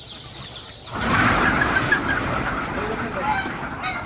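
Hybrid Sonali chickens at a poultry hatchery cluck and chatter together close by, a busy overlapping flock sound that swells after the first second and keeps going, with faint voices in the background.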